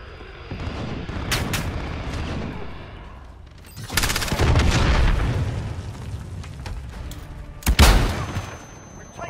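Gunshots ring out in Call of Duty Modern Warfare, with sharp, loud cracks near 1.4, 4 and 7.7 seconds. Heavier rumbling gunfire and blasts fill the middle, and nobody speaks.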